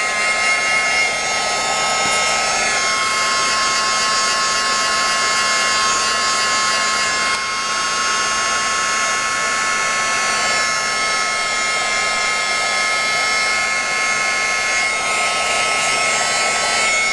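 A heat tool blasting hot air to set stamping ink for no-line colouring, a steady loud rushing hiss with a high whine that holds without a break for the whole stretch.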